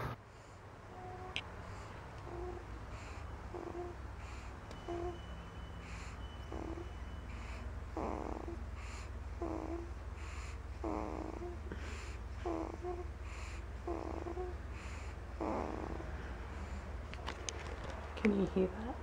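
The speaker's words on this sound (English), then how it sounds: "She does the cutest little snoring sounds when she's asleep" A sleeping baby girl gives soft, faint snoring breaths in a slow repeating rhythm, each breath low and gentle against a steady background hum.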